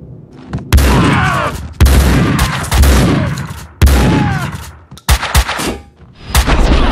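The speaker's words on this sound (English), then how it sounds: "Someone must have heard the gunfire." Loud gunfire bursts from the video game Max Payne 2, several heavy volleys of shots with sharp onsets and ringing tails, spaced roughly a second apart and ending in a few quick closing shots.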